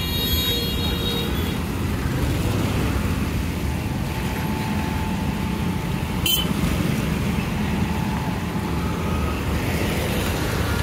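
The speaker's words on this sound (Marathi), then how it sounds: "बघू शकता मित्रांनो ट्रॅफिक मुव्हेबल आहे, बट लागलेलं आहे ट्रॅफिक" Steady roar of slow-moving monsoon road traffic near Mumbai, heard from a Honda CT 110 motorbike, with one brief sharp click partway through.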